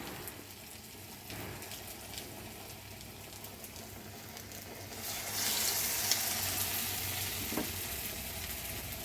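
Urad dal vadas fry in a pan of hot oil, giving a steady close sizzle and crackle that swells louder about halfway through, with no talking.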